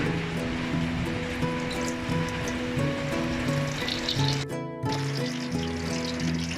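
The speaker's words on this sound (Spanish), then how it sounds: "Ahora sí ponemos el chile a freír." Steady, dense sizzling and crackling of a battered chile frying in hot oil, continuous and close, with a faint hum underneath.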